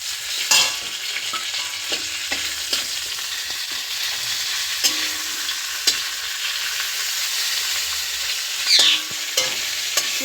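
A fish head frying in a pan over a low gas flame sizzles steadily and closely for the whole stretch, with occasional sharp pops and spits and no talk.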